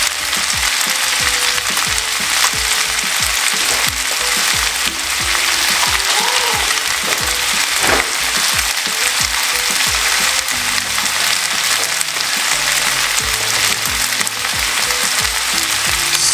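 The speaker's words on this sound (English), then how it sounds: "fry up these vegetables" Vegetables fry in a pan with a loud, dense, continuous sizzle, joined by faint rhythmic clicks and scraping from stirring, close up with no voices.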